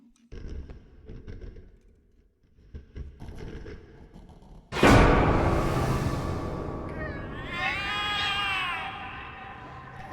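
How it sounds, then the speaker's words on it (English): Cats meow and caterwaul in the video game The Cat Lady, a sudden loud burst after quieter stretches, with several drawn-out wavering cries rising and falling near the end. "The cats are alarming."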